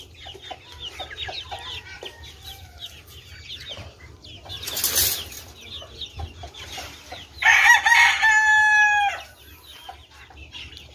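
Rhode Island Red chickens cluck repeatedly nearby, with a burst of wing flapping and one loud rooster crow near the end.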